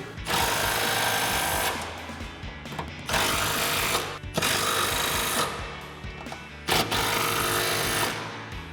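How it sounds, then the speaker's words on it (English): Power tool driving a 12 mm socket to tighten bolts on a 2005-2014 Mustang coil-over install, with loud buzzing bursts of about a second or more separated by short pauses, close and without talk. "we'll tighten these down with our 12 mil socket"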